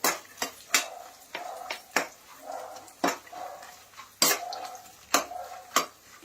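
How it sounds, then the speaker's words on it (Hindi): Sesame seeds roast in a pan while a spoon scrapes and clinks against the metal in irregular knocks, several sharp taps over a soft dry rustle, close and moderately loud. "तिल को भी भून लेंगे"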